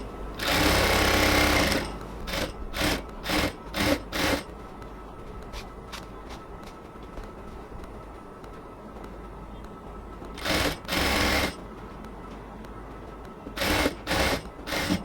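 A sewing machine stitches elastic into a salwar waistband in short, loud bursts: one long run, a quick string of brief pulses, then a quiet stretch before further stitching spurts.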